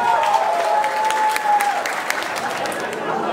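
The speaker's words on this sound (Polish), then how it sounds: "Poproszę wielkie brawa dla pana młodego." Wedding guests applauding the groom at a reception with a live band, dense, loud clapping from a close crowd that runs steadily throughout, with a brief whistle-like tone and faint chatter mixed in.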